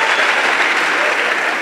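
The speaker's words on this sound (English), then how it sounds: "Give yourselves a big hand clap." An audience at a leadership training kickoff event claps loudly and steadily, a dense wash of applause that runs the whole moment without a break.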